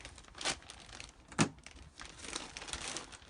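Sealed packaging around all-terrain RC car tyres from a Carisma Scale Adventure SCA1E Coyote kit is ripped open, giving a few sharp crinkling tears with a loud burst near the middle and softer rustling after, with no talk.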